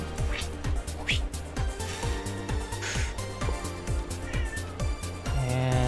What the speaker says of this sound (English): Alright, I hear you, cat